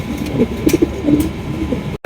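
Red American Helmet pigeons coo in low, rolling bursts amid steady background noise, fairly close and without talk.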